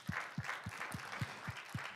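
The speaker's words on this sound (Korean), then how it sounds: "박수 한번 주세요" A church congregation claps in unison, about eight evenly spaced beats at a brisk, steady rhythm, moderately loud and slightly distant.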